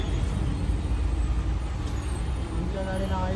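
Heavy road traffic in a jam, with buses and trucks idling close by and a brief air-brake hiss rising over the steady, loud engine rumble.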